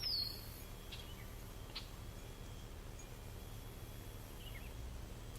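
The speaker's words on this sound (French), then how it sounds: "le chant des oiseaux" Birds sing faintly in a calm outdoor setting, a few scattered distant chirps and short calls over a soft, steady background hush, with no talking.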